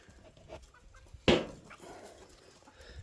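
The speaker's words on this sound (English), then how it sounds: "So the chickens want scratch." Backyard chickens clucking in a farm barnyard around feeding time, soft scattered clucks with one sharp louder squawk near the middle, fairly close, no talk.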